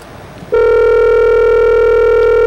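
Telephone line tone from a call being placed: a steady loud electronic tone starts abruptly after a brief quiet stretch and holds unbroken to the end.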